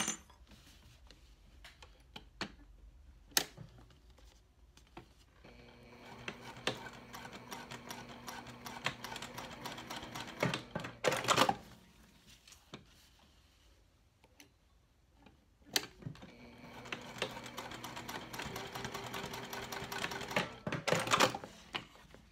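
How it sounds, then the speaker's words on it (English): Sewing machine stitching through cork fabric just above a seam line at 1/8 inch, running in two steady mechanical bursts of rapid ticking stitches separated by brief pauses, close and clear with no talk. "now I'm gonna go and stitch just above my line here at 1/8"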